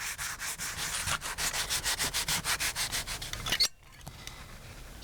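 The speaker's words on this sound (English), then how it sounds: "A final bit of sanding," Rapid rhythmic strokes of sandpaper rubbing over new wood patched into a window sill, about a dozen close scratchy passes, then an abrupt stop followed by quieter rustling.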